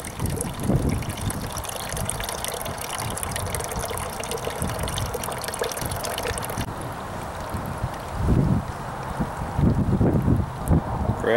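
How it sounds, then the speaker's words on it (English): Steady outdoor wind buffeting a microphone on a cold day, a constant rumbling roar with stronger low gusts toward the end, and no talking. "Hopefully the wind noise isn't too bad, because it is pretty windy out today."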